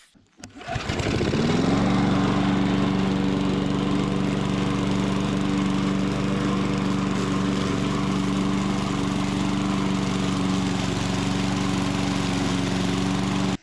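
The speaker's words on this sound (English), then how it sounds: "I am going to try running it without the air filter just to see if it improves performance." A lawn mower engine runs without its air filter, starting up and settling into a loud, steady, even drone that holds without missing or bogging for over ten seconds, close by and with no talking.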